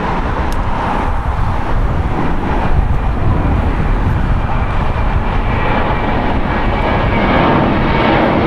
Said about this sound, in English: Delta Airlines Flight 8 arriving on the north side.